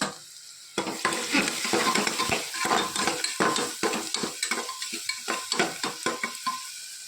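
A spoon stirs and scrapes a spice masala of turmeric, coriander-cumin and salt in a frying pan. Repeated close scraping strokes sound over a light sizzle, with no talking.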